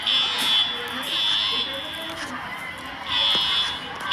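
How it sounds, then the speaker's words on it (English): A fire alarm buzzes in three loud, evenly spaced bursts over a steady background of murmuring voices and crowd noise indoors. "Maybe it was Gary who pulled the fire alarm again"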